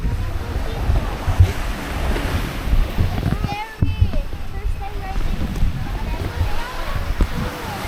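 Rough surf at Station 1 on Boracay beach, a steady loud wash of waves with wind buffeting the microphone, and people talking over it throughout.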